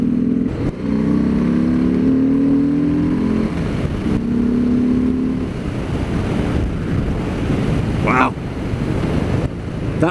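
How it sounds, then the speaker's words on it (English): A 2019 Harley-Davidson Sport Glide motorcycle on a road test, its V-twin engine rasping and revving steadily under heavy wind rush, with a brief gear-change surge near the end. "that rasp of that engine."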